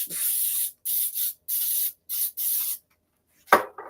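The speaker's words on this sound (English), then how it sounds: "I'm spraying with my Pam baking flour." Pam baking spray with flour misted from an aerosol can to grease a baking tin for breakfast cups, several short hissing bursts of varying length, close and fairly loud, followed by a brief knock.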